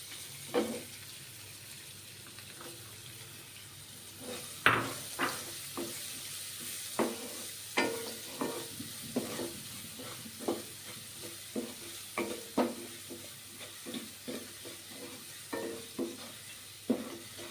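Chopped onions sizzle in a pan while being stirred for dabeli, a steady frying hiss beneath repeated sharp scraping taps of a spoon against the pan, close and fairly loud throughout.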